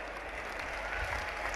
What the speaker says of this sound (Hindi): एक बार जोरदार तालियां बजा के आप उनका अभिवादन कीजिए